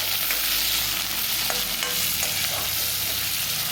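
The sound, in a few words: green chillies and curry leaves sautéing in a pan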